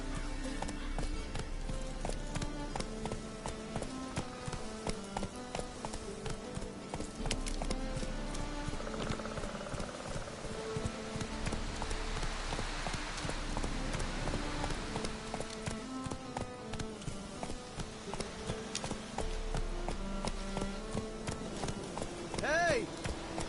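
Roach the horse gallops in The Witcher 3, its hooves pounding in a quick, steady clip-clop across the whole stretch, with game music and speech over the top.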